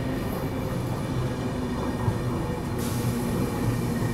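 Kanyakumari Himsagar Express train pulling into Ramagundam station, a loud continuous rumble of carriages and wheels on rails with no talk.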